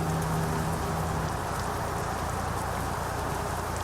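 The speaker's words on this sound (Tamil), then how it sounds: "மழை பெய்யுது." Steady rain in Euro Truck Simulator 2, falling in a continuous even hiss with a low rumble beneath and no pauses, as heard from inside a truck on the road.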